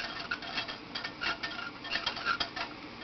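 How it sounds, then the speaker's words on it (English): A metal whisk stirs shea butter and other lip balm ingredients as they melt in a pot, giving a steady run of light clinks and scrapes close by, with no talking. "I'm going to take my whisk and just move those around."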